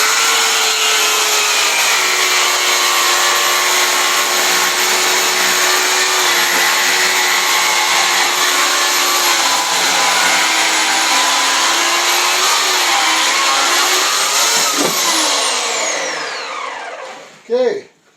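A power carving tool bevels the back of the neckline on a carved wooden bear bust. It gives a loud, steady high whine for most of the time, then winds down and stops near the end.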